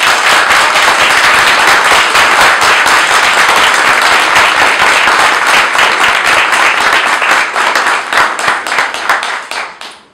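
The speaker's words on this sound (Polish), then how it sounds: "Najgorętsze brawa." A debate audience gives a sustained round of loud, dense clapping for the journalist Stanisław Michalkiewicz, steady for several seconds before thinning into scattered claps and fading out.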